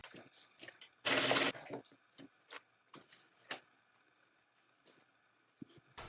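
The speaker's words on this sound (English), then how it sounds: "we're going to head over to our sewing machine and we're going to sew across here" A sewing machine stitching across a tote bag runs in one short loud burst, then a few brief whirs and clicks, with quiet handling noises between them.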